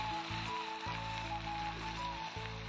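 Soybean curry frying in a pan, a soft continuous sizzle heard quietly and close, with faint steady tones and small clinks in the background.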